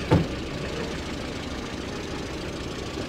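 A 2012 Lexus car engine runs at a steady idle with a faint knocking rhythm and a constant low hum, close by, after a brief bump at the start.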